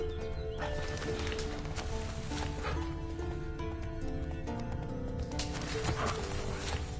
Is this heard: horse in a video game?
yes